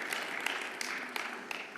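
Faint, thin applause from a conference crowd at a political convening, a short stretch of scattered clapping with a few sharper claps standing out.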